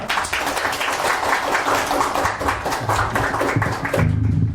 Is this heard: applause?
yes